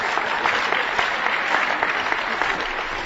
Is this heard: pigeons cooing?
no